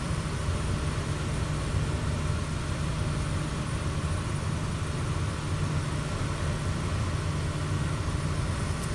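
Turboprop aircraft engine in Microsoft Flight Simulator, a steady, unbroken drone with a heavy low rumble and broad hiss that holds at an even level throughout, with no voices.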